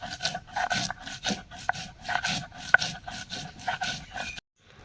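Mustard seeds, poppy seeds and green chilli ground together on a grinding stone, a steady run of rhythmic rasping rubs, each stroke scraping back and forth close up, ending abruptly in silence.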